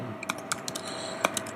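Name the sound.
typing a MySQL command on keyboard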